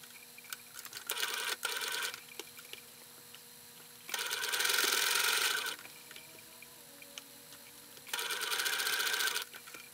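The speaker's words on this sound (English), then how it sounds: "I normally start at the back seam and then we're going to sew around." A sewing machine stitching around a small Lolita-style mini witch hat, running in three short steady bursts of rapid mechanical whirring separated by pauses, close and clear.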